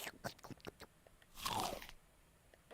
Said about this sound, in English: that gulp sound effect right there only plays when it gets destroyed by getting eaten